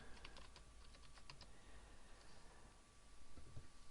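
Rapid keystrokes on a computer keyboard as a password is entered, a quick burst of close, crisp clicks with a few scattered taps later, played over a steady low background hiss.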